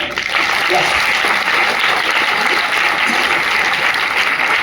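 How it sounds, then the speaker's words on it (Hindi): Continuous dense applause from an audience at a business marketing presentation, steady and loud throughout with no pauses. "जैसे पहली बार सबको जरा ताली देंगे"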